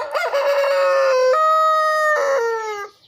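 A rooster crows loudly and nearby, one long drawn-out call that shifts pitch midway, with a brief cluck at the start.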